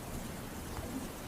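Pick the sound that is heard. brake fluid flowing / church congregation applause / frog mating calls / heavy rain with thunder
heavy rain with thunder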